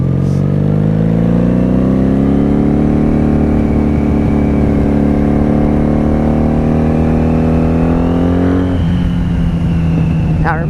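A 1997 Honda Magna VF750C motorcycle engine drones steadily while riding, its pitch climbing gradually then shifting near the end as the bike changes gear, loud and close throughout.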